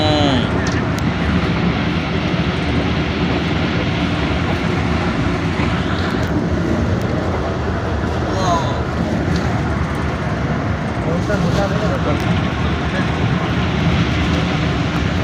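A Shalimar passenger train, an old rattling coach, runs along the track with a steady, loud rumble and clatter that fills the whole stretch, with faint voices underneath.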